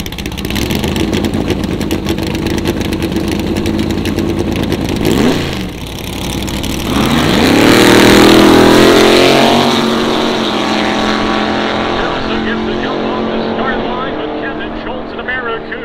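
A 1966 Plymouth Barracuda Formula S gasser and a 1969 Chevrolet Chevelle muscle car roar through a drag race pass, loud engines swelling to a peak and then fading as the cars run toward the finish, with a commentator talking over them.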